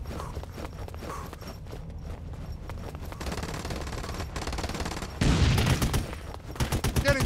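Sustained gunfire in the PC multiplayer shooter Special Forces: Team X, a continuous rattle of automatic shots that grows louder and heavier near the end, with no talking.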